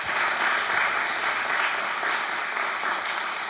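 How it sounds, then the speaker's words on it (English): An audience at a Trans Day of Visibility celebration gives a long, steady round of applause, a dense, even crackle of many hands clapping with no talking over it. "Big hand of applause"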